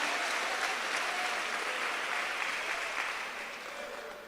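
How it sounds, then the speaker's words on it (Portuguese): A church congregation applauding during a service: broad, sustained clapping from many people that holds steady, then gradually fades toward the end, with no voices over it. "Se tem alguém aqui em casa, dá glória, aplaude ao Senhor, louva a Jesus."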